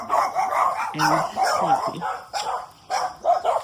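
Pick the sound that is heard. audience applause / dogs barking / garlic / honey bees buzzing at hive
dogs barking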